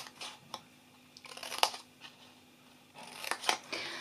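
Scissors snipping paper while making a gift box, a few short crisp cuts and rustles spaced apart, close and fairly quiet.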